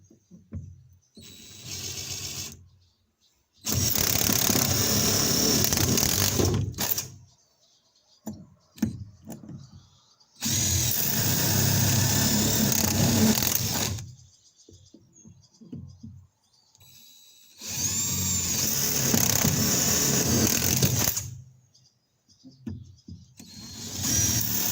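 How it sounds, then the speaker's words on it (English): A jigsaw cuts a circle in a wooden cornhole board after holes are bored with a butterfly bit, coming in three long loud buzzing runs separated by quiet gaps with small handling clatter. "I'm just using a butterfly bit and a jigsaw to cut"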